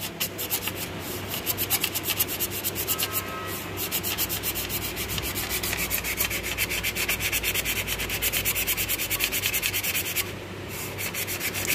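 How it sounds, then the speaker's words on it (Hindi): Sandpaper is rubbed by hand across a rusty car brake disc, giving a continuous rhythmic scratchy rasp of quick back-and-forth strokes, close and steady throughout. "इस टाइप रेतपाल पेपर से आपको पूरी डिस्क को घिसवाना है, ग्राइंड कराना है,"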